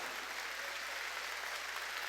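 Steady applause from a church congregation, dense clapping that holds at an even level throughout, somewhat distant and soft.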